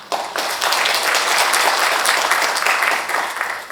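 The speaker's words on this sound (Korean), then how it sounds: "다시 한번 큰 박수 부탁드리겠습니다" Audience applause fills a forum hall at a Korean pharmaceutical, bio and healthcare federation event, a dense, steady wash of many hands clapping that swells quickly and holds loud for nearly four seconds before tapering.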